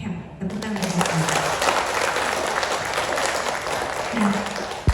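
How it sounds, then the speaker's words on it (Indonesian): Audience at a coaching training session applauding: a dense, continuous wash of clapping that fills the room, with faint voices beneath it. "Tepuk tangan buat saya."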